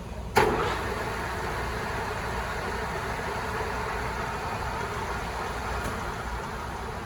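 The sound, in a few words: DoAll Romi LS-1780 lathe running at 450 RPM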